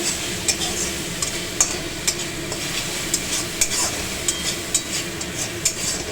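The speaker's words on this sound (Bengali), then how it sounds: "মশলাটা কষা হোক, গ্যাসটা বাড়ানো আছে।" Spice paste for a Bengali bhola fish curry with coriander fries over a high gas flame while being stirred in a pan, giving a steady sizzle with frequent scraping clicks from the spoon.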